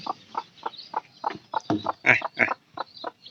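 Newly hatched native chicken chicks peeping close by in a rapid, evenly spaced series of short chirps, about a dozen calls in a few seconds, a couple louder than the rest, no talk.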